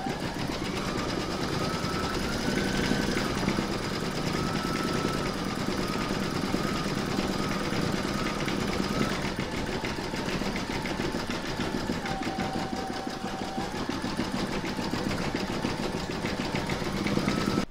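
An embroidery machine stitches an in-the-hoop mandala placemat section, a steady rapid mechanical whir with constant rhythmic needle strokes running evenly throughout at moderate loudness.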